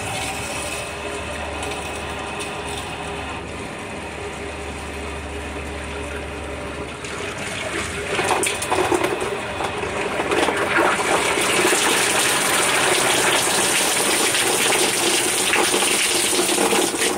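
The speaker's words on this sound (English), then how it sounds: "turn on the inlet valve so that the water is going to go through our sediment in through the carbon" Water flushing through a home sediment and carbon filter setup after the inlet valve opens, a continuous hiss and gush that swells louder partway through, with some mechanical clicking early on.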